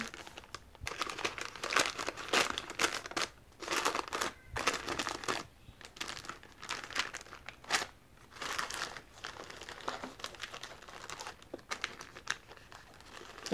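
Wrapping paper crinkles and rustles loudly while Christmas gifts are wrapped, in dense close bursts of crumpling and tearing with short pauses between handlings.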